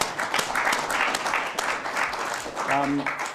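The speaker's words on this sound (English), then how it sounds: "I think there's another round of applause to all the people who've given their time and knowledge." Audience applause for the speakers at a talk event continues steadily through the whole stretch, moderately loud, with a voice briefly heard over the clapping near the end.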